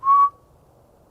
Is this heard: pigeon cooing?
no